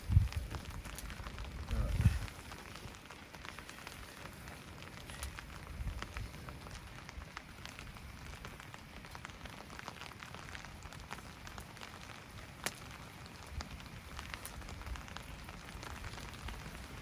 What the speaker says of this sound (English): A little bit in the rain where I'm sitting